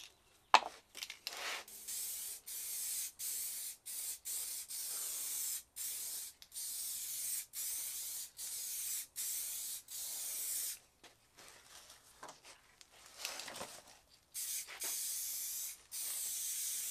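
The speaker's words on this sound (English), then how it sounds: "I guess we'll throw a little bit of spray paint on it" Spray paint hissing onto a homemade socket rail in a long series of short and medium bursts with brief pauses, close and steady, no voices.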